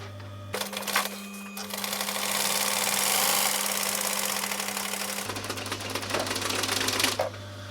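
A sewing machine stitches a diamond pattern across a camper cushion panel, with a steady motor hum and fast needle chatter holding close and loud for several seconds, bracketed by brief pauses and handling noise.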